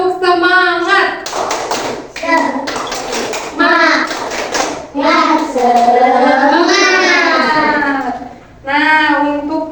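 A class of children does the rhythmic tepuk semangat spirit clap, sharp tapping claps in quick patterned bursts mixed with loud chanting voices and a teacher speaking close by.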